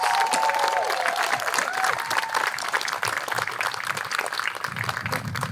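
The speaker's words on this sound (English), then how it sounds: "Applause for them all now before we name the winners." Crowd at a city awards celebration applauds steadily, dense clapping with a brief cheer rising early on and faint talk underneath toward the end.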